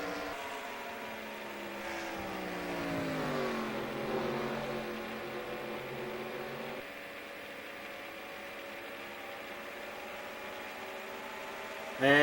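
Stock cars roaring past in the NR2003 racing sim at Rockingham, layered engine drones sweeping down in pitch as the pack goes by, then a steady engine hum with another car cutting in loudly at the very end.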